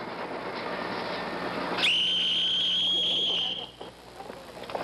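A prison lockup whistle blows one long, steady, high tone for nearly two seconds, loud over a murmur of background voices and room noise, then cuts off.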